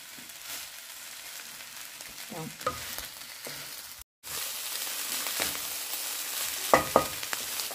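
Rice is stir-fried in a pan, a steady sizzle with scraping and tossing from a utensil throughout, a brief break in the middle, and a few sharper clatters near the end.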